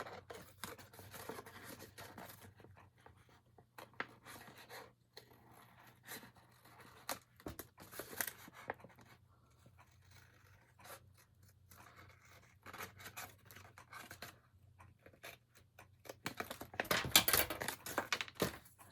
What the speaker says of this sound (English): So I'm going to cut that into an arch shape.